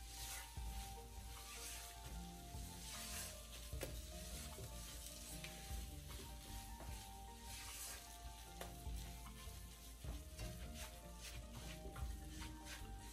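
Gram flour (besan) roasting in a pan is stirred and mixed, giving a steady sizzling hiss with scraping stir strokes throughout, close and fairly quiet, with no talking.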